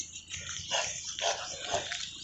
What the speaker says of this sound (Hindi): तो देखो भौंक रहा है,